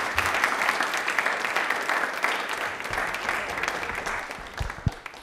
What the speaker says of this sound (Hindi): एक बार तालियां अखिल से लीजिए, जोरदार हो जाए, जोरदार हो जाइए